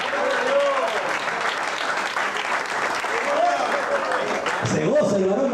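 A church congregation at a thanksgiving service claps continuously, a loud, dense patter of many hands that persists throughout, with a voice speaking over it.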